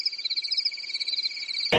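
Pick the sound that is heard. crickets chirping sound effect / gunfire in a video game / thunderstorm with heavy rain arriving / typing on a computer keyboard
crickets chirping sound effect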